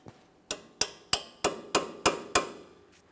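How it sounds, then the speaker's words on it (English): A locking clip is tapped into place on the CV axle flex hose of a 2014-2018 Mazda 3 during a front left axle replacement: seven sharp, evenly spaced metallic hammer taps, close and clear. "line that up with the groove on the flex hose and tap it into position."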